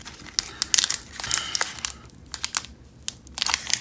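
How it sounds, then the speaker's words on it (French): A Pokémon card booster pack's foil wrapper crinkles and tears open up close, in bursts of sharp crackling rips and rustles with short pauses between them. "Ok, le booster est ouvert assez proprement."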